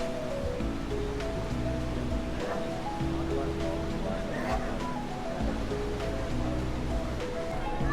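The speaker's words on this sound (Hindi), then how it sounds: "सामने देखिए सरस्वती नदी जो है वो सामने बह रही है" The Saraswati river rushes past near Bhim Pul on the trek to Vasudhara Falls, a loud, steady roar of flowing water with faint tonal sounds layered over it.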